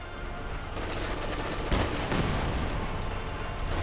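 Dense battlefield gunfire from Company of Heroes 2, a WWII real-time strategy game, with snipers and German troops under fire from a Puma armored car: a continuous loud fusillade of overlapping shots and bursts with a heavier impact near the middle.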